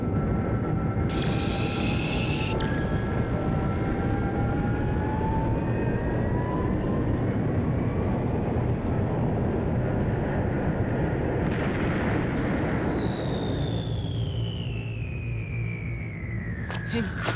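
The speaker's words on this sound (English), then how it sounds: "Keith, look, it's landing." An aircraft descends to land in an anime scene, a loud, sustained engine roar and whine swelling over the whole stretch, with a high descending tone near the end and brief tonal beeps early on.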